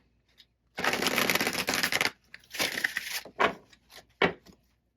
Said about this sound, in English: give it one more good shuffle here.